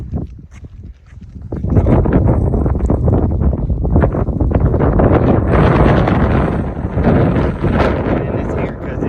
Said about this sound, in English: it's here because it's super windy